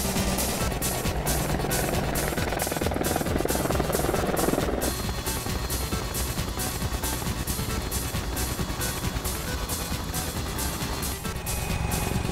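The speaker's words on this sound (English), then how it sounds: "Apache Longbow is principally a killing machine" An Apache Longbow attack helicopter thumps steadily overhead, its rotor beating in a fast, even rhythm over a continuous engine whine, loud and sustained throughout with no speech.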